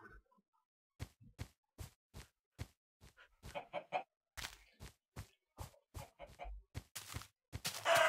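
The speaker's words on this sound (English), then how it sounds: "More chickens." Chickens in Minecraft give a run of short, clear clucks spaced roughly evenly apart. Several overlapping bird calls cluster together midway, and the clucking grows louder toward the end.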